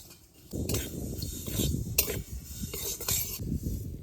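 Sesame seeds frying in a small amount of oil in a pan while being stirred, with a soft steady sizzle and repeated scraping clinks of a spatula against the pan, close and moderately loud, no voices.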